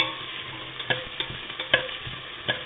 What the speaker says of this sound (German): Man hört mich eh nicht, weil das hier so brutzelt.